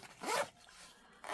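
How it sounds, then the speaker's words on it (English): A clothing zipper on budget outdoor gear, with stitched seams on a durable, fairly thick fabric, zips in one quick rasping pull, then a quieter pause and the start of another short zip. "Zippers are pretty good."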